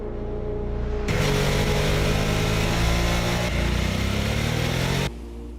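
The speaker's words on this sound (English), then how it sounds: "the heart of the motorcycle, which is the new Rev Max 975 powertrain" A Harley-Davidson trike with a Revolution Max 975 engine starts loud and rough, rumbling at a steady high rev for a few seconds, then drops back to a quieter idle.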